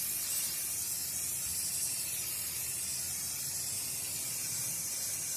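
Gray spray paint hisses steadily from a can in one continuous, even burst, close and fairly quiet with no talk over it.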